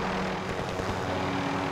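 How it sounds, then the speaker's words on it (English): Helicopter in the Warzone video game flying near a stadium, a steady broadband rotor and engine drone held at constant level throughout. "There's a helicopter over there in the stadium."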